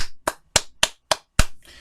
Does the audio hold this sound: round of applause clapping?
yes